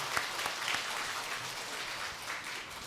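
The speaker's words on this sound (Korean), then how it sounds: "우리 박수하겠습니다." A church congregation claps after a choir's hymn at a Sunday worship service, a quiet, steady wash of many hands applauding throughout with no talk over it.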